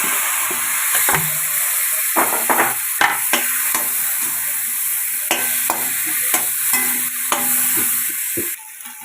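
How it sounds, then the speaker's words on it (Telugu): Cut tomatoes frying in a pan, a soft continuous sizzle broken by frequent clinks and scrapes of a spoon stirring against the metal, close and steady, with no voices. "టమోటాలను ఇలా కట్ చేసుకొని అదే బాండీలో వేసుకొని ఫ్రై చేసుకోవాలి"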